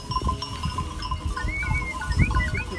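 Sheep grazing in a pasture, with a small flock of six following close by; high thin calls rise over steady outdoor noise near the middle and end, fairly close and moderately loud.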